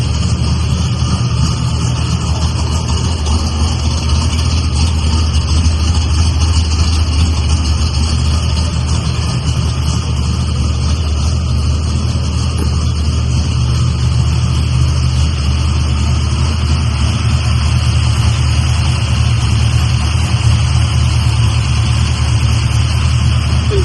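A tuned car engine idles steadily with a lean, loping rumble, loud and close, a constant low drone with no voices over it.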